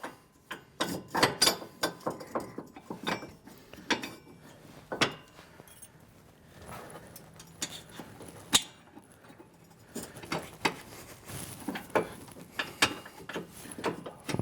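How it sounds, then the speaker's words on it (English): A TigerTail tow system is mounted into a receiver hitch and pinned, giving a scattered series of sharp metallic clanks, clicks and rattles at close range. "I'm going to mount this into the receiver hitch and put my pin in"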